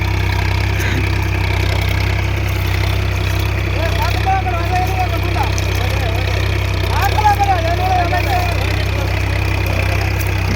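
Massey Ferguson 8055 tractor engine pulling an MB plough across a field with six people riding, a steady low idling-like drone running throughout while faint voices come and go.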